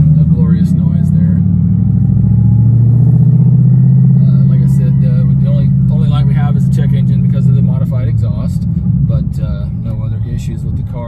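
A 2011 Mustang GT Premium with a six-speed manual under throttle gives a loud, deep engine rumble that swells and holds, then eases as road noise and a voice come in.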